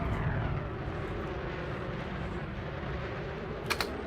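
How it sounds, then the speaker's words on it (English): The Mandalay ship in Elite Dangerous boosts with a loud, sustained roaring engine rush that holds steady throughout, with a couple of brief sharp clicks near the end. "They've finally made a ship that has a better boost sound effect than the Asp Explorer"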